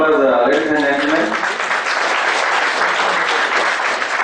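A seminar audience applauds at the close of a session on NFRA provisions. A voice speaks briefly at first, then steady, full clapping from many people carries on loudly to the end.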